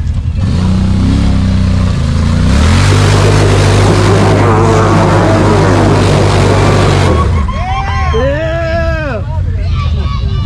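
A naturally aspirated Yamaha off-road vehicle at an adventure park in Kentucky revs hard and loud up close, holding a steady roaring drone before dropping off, while a crowd cheers and shouts over it.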